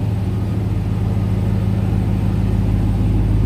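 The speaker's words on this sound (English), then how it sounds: "I'm letting the engine warm up a little bit before I drive" A Ram TRX pickup truck idles while warming up, a steady deep low rumble with an even throb, close and unbroken, with no talk over it.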